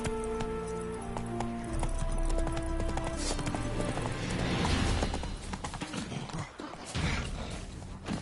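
Horse Roach galloping in The Witcher, a steady clip-clop of hooves under swelling game music, with occasional snorts and no speech.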